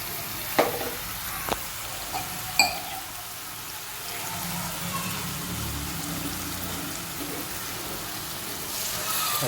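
Chickpeas with chole masala and kasuri methi are stirred in a sizzling pan: a few sharp spoon knocks against the pan early on, then a soft continuous frying hiss.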